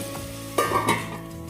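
Raw mango cooks under a lid for a sweet, sour and spicy methamba, with a soft continuous sizzle and a couple of brief metallic clatters midway.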